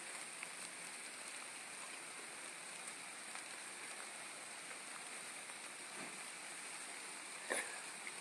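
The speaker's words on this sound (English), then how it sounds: "Can you hear the rain above me?" Faint, steady rain hisses continuously, with a few soft drops and taps standing out briefly near the end.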